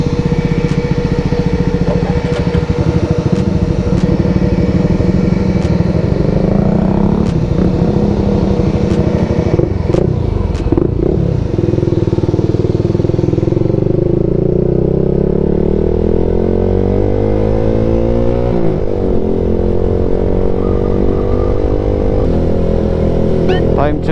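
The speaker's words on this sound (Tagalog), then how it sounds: "So ito yung motor natin, kasama yung mga motor nila." A group of motorcycles setting off at dawn from a town in Quezon, Philippines: close, loud engines idle and rev, with rising and falling pitch as the bikes pull away, plus occasional clatter.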